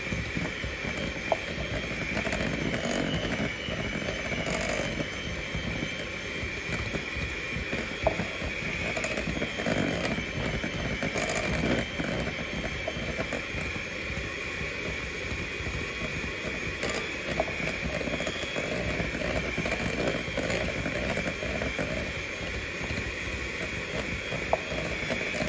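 Electric mixer whisk beating bun dough in a bowl, a steady dense whirring and rattling hum that runs continuously at an even level throughout, close and loud, with no talking.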